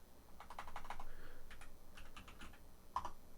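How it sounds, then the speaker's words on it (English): Quick bursts of typing on a computer keyboard as a search term is entered, a brisk run of close, light clicks with brief pauses and a final sharper keystroke. "let's go here and type in leaders."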